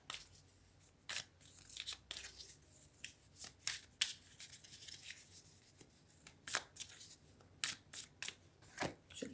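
Tarot cards are shuffled and cut by hand in a series of sharp, papery riffles and slaps, some close and crisp, with quieter rustling between bursts and no talking.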